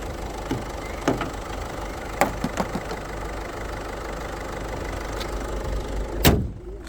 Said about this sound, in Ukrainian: Закриваємо капот.